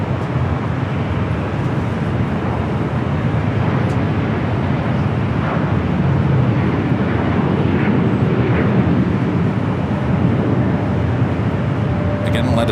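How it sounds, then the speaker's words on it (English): Zipair Boeing 787-8 Dreamliner heavy arriving at Los Angeles from Tokyo Narita, a steady, moderately loud jet rumble mixed with airport and traffic noise, continuous for the whole stretch. "we got Zippy, Flight 24, coming up from Tokyo Narita, 787-8 Dreamliner, our next heavy arrival"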